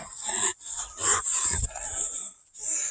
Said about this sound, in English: It's just the doggies being a pain in the butt today.